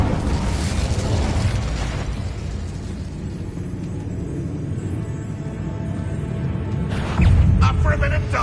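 An Incendio fire spell in Hogwarts Legacy lets off a sustained roaring blast with crackling bursts, loud throughout and swelling again into a heavier burst near the end.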